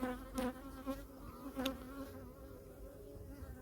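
Bees buzz around beehives during feeding and mite treatment, a close, wavering hum with a few louder passes of individual insects flying near, quieter toward the end.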